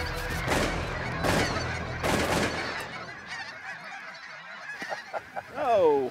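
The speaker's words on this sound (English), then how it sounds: "The ducks and geese coming in at the same time." Ducks and geese fly in over a waterfowl hunt in Alberta, with loud repeated honking calls up close. A few sharp bursts come early on, and wingbeats and faint voices sit beneath the calls.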